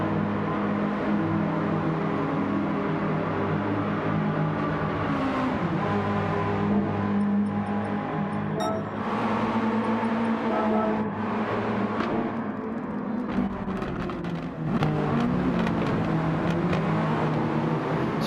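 Mazda Cup race cars run under a caution yellow flag in a sim racing game, their engines droning steadily at moderate volume with shifting pitch and occasional revs, with no talking.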